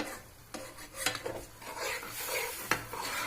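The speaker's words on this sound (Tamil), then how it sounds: "இந்த மாதிரி கொஞ்சம் கிண்டிகிட்டே இருங்க" Bread halwa stirred with sugar in a pan, soft scraping strokes and a couple of sharp spoon taps against the metal over a faint low sizzle, quiet and close.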